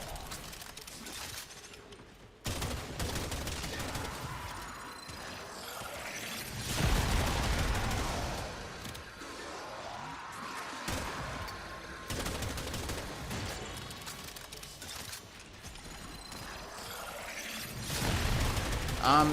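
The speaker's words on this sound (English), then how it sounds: "I see a red dot, I shoot." Gunfire from shooting in the video game Warframe, bursts of shots and mechanical clatter coming and going over about twenty seconds, moderately loud, with a voice talking at times.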